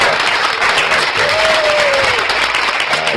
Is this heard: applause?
yes